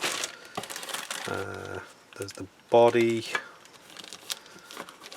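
Plastic parts and bags from a 1:24 Sierra Cosworth 4x4 model kit rustle and crinkle as they are unpacked at close range, with light clacks of pieces, while a person talks throughout.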